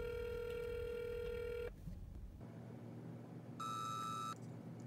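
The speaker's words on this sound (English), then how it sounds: "Trying to call the lady at the hospital back again." Telephone tones while placing a call to a hospital: a steady dial tone, a pause of faint line hiss, then a short higher ringback tone, heard alone with no voices.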